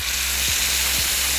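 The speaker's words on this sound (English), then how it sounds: "You want to hear that sizzle. That means that your oil is hot, the pan is hot." Marinated cilantro-lime chicken pieces sizzle steadily in a hot, oiled skillet, a close and continuous frying hiss with faint low thuds under it, and no voices.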